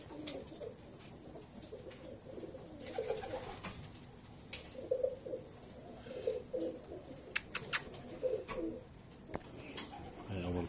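Pakistani pigeons cooing in a loft: soft, repeated low coos from several birds, with a few faint chirps and clicks over a quiet, steady background hum.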